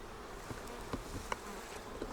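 Worker bees buzz at a hive during a first-time hive split, a low, steady hum that stays faint and even, broken by a few soft ticks and bumps, with no voices.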